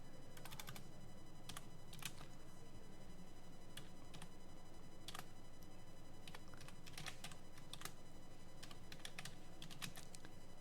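Someone types a command into a terminal on a computer keyboard, with quiet, irregular clusters of key taps over a faint hum in a quiet room and no talk.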